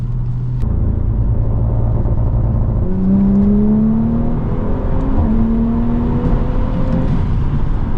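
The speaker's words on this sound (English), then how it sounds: "The anti-lag goes crazy." Stage 2 Audi S4 engine revving hard through the gears with anti-lag, a loud continuous close-up drone rising in pitch, with a shift partway through; no distinct pops stand out.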